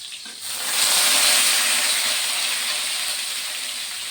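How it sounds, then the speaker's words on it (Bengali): Potato and papaya pieces hiss and crackle in hot oil in a home kitchen, a steady loud sizzle swelling after the first half second and holding throughout. "আমি এখন আলু পেঁপেটা ভেজে নেব।"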